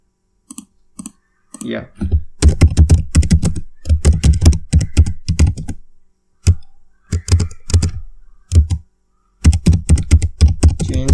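Rapid computer keyboard typing in uneven bursts, a client script being written, with short pauses between runs of keystrokes and a brief spoken word near the start.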